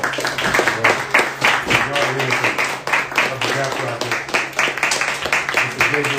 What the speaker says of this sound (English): Please give your hands a round of applause for yourself.